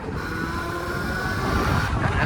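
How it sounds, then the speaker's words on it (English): A motorcycle passes close by on a street, a steady broadband engine roar with a faint high whine that swells toward the end, heard over road and traffic noise. "No, that's a motorcycle."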